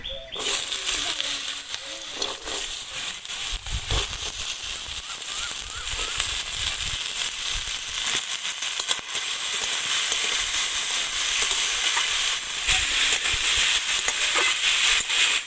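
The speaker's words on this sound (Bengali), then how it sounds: "তেলের মধ্যে আমি প্রথমে কুচিয়ে রাখা আলুগুলো দিয়ে দেব।" Chopped potatoes go into hot mustard oil in a village kitchen and set off a loud, continuous, close-up sizzle that holds steady throughout with faint stirring under it.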